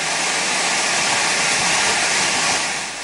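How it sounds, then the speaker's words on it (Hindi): Water pours loudly inside a flooded apartment in Hyderabad, a constant dense hissing roar like a waterfall, steady throughout and heard alone with no voices. "तेज शोर के साथ गिरता पानी"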